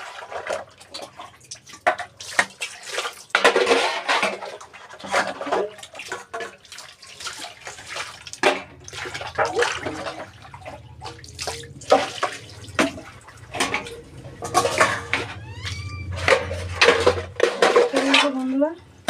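Dishes being washed by hand with running water, a wok and a ladle among them: repeated clanks and scrapes of metal pots and utensils, splashing and dripping from a tap, close and busy, with occasional voices.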